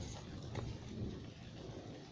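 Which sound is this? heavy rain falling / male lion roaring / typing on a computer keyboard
heavy rain falling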